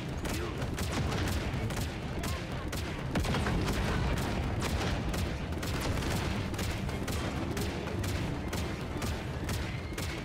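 Sustained rapid gunfire pours in from enemies in Halo Infinite, a dense continuous barrage of overlapping shots and bursts that stays loud and steady throughout.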